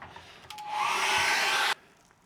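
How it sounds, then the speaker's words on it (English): A hair dryer blows loudly for about a second drying acrylic paint, a steady high whooshing roar that cuts off abruptly, leaving quiet room noise. "I'm going to dry that off with a hairdryer"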